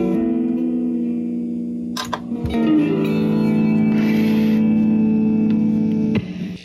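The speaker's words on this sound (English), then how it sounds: "Okay, now I'm getting a little bit of reverb." Gorilla GG-110 guitar amplifier under repair, sustained electric guitar notes ringing through its reverb with a wash of tail, broken by a couple of sharp clicks and crackles from a faulty pot; no talking.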